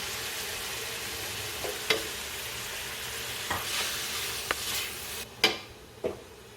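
Oyster mushrooms sizzle in a pan as a spatula stirs them, a steady hiss with a few sharp scrapes and knocks, the loudest near the end, close up with no voices.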